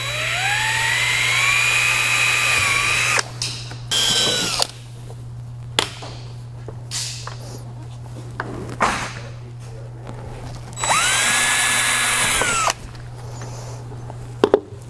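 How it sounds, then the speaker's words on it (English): A power drill whines loudly in several bursts of varying length, pre-drilling holes in a well pump flow sleeve, spinning up and down between short pauses, with faint knocks between runs. "I want to pre-drill these before the motor's in"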